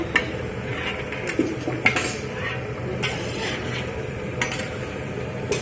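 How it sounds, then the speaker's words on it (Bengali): Potatoes stir-fried with chili powder and spices in a pot, a utensil scraping and clinking against the metal in steady, irregular strokes, with a faint sizzle underneath and no voices. "মশলা কষা হয়ে গেছে, আলু দিয়ে কষা হচ্ছে"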